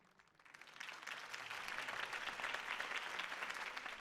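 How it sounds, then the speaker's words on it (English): Crowd applause after a campaign speech in Batman: A Telltale Games Series swells quickly from quiet into steady, dense clapping and holds at a moderate, somewhat distant level. "If only Mr. Wayne, my campaign's largest backer, could have heard that applause"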